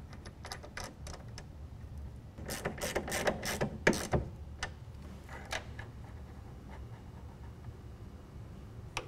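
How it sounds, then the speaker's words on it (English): Half-inch ratchet tightening a mounting block for a GatorTrax MX tonneau cover on a 2010-2017 Ram with Rambox, with quick rattling clicks in short bursts, close but fairly quiet, and no talk. "We're going to tighten that down with a 1/2 inch ratchet."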